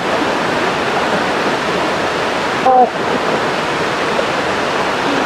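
Water flows steadily at a peaceful waterside spot, a continuous broad rushing wash that stays even and fairly loud throughout, broken only by a brief faint high tone near the middle.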